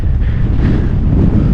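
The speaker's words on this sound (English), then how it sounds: "holy moly, it's windy here" Strong wind buffets the microphone on the summit of Whiteface Mountain, a steady loud low roar with gusty rumble filling the whole stretch, no voices.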